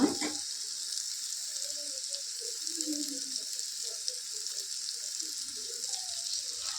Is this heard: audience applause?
no